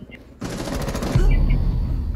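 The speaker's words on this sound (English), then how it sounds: "I got shot." Rapid automatic gunfire in the video game Rainbow Six Siege, a sudden loud burst of shots that grows heavier and continues to the end, with players talking briefly over it.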